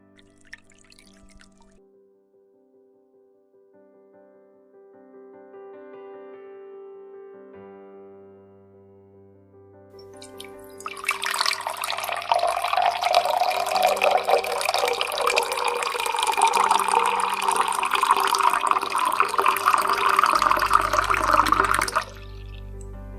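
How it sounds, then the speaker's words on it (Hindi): Three cups of water are poured into a cooking pan, a soft trickle building to a loud, steady splashing pour that lasts about ten seconds before stopping abruptly. No voices. "अब एक पैन लें और इस पैन में 3 कप पानी डाल लें।"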